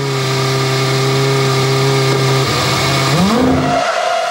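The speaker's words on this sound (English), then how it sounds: "He slides into the gravel." A Formula 1 car driven by Hamilton in 2007 screams at high revs, then the engine note drops and wavers as it slides off into the gravel, ending in a loud rumbling crunch.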